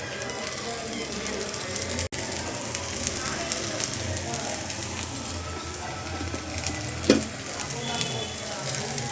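Ginger, onions and carrot fry in a pan with a steady close sizzle, broken by a sharp clack around two seconds in and a brief stirring scrape later.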